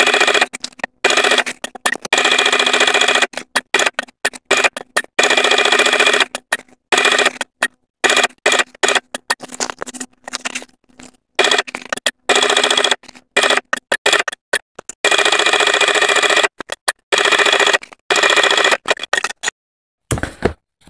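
A sewing machine stitches a leather boot seam, running in quick stop-start bursts of rapid mechanical whirring separated by brief silences, close and steady.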